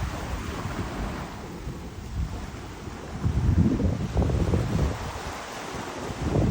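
Ocean waves and swells roll up onto Kaanapali Beach, washing rocks ashore under heavy wind buffeting the microphone, with a continuous roar that swells louder midway.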